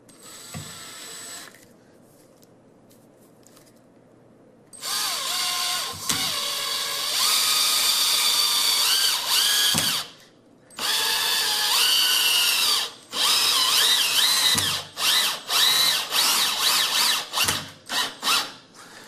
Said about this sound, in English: And then we'll switch the drill bit out to a driver.